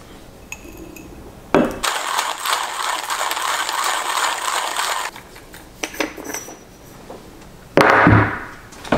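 Light roast coffee beans are ground in a hand grinder, a close, harsh grinding burst lasting a few seconds, set between clinks and rattles of the grinder's parts.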